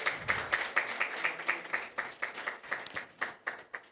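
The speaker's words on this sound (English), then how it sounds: "Be generous with your applause." A small audience claps at the Falling Walls Lab Ghana 2025 certificate ceremony, a thin, fairly faint patter of clapping with a few distinct, evenly spaced claps standing out.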